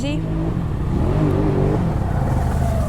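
A Can-Am XMR 700 four-wheeler engine revs and pulls hard under acceleration, a steady loud mid-pitched drone with rising and falling harmonics across the whole stretch.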